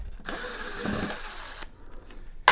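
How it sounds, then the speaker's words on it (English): A power screwdriver or drill backs a black screw out of the rear plate of a Sony XBR-49X900F television, a steady whirring buzz of about a second and a half, close and fairly loud, followed by brief handling clicks. "there is 1 black screw right here that I'm going to get out of here"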